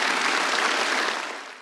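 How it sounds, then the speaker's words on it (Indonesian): Congregation applauding during a church worship service, dense sustained clapping from many hands that holds steady and then begins to taper off toward the end. "Tepuk tangan bagi Allah kita."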